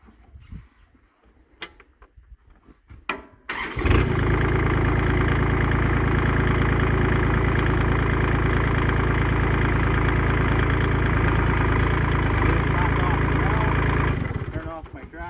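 Kubota B2601 compact tractor diesel engine cranks and catches, then settles into a steady, loud idle that runs for about ten seconds before shutting off, with a few clunks and faint handling noises before it starts.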